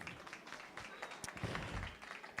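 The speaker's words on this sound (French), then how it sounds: "Bravo pour lui, on l'applaudit." Audience applause for a participant at a live drawing battle event, a soft, quiet patter of clapping from a small crowd lasting a couple of seconds with no talk over it.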